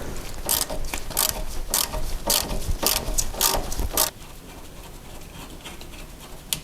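A ratchet clicks in quick, loud bursts as bolts are undone on the rear suspension arm of a Mercedes ML W163, then stops, leaving faint workshop quiet.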